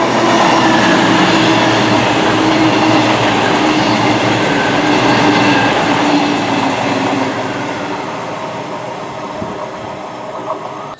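A Great Western Railway train rumbles loudly past at close range at a station on the Reading-Basingstoke line, a dense roar of wheels and rails that slowly fades toward the end.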